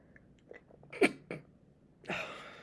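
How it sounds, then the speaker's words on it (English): A single human sneeze, preceded by a few small breaths and throat sounds, then a sharp close burst and a brief airy exhale, recorded close in a quiet room. "I had to sneeze."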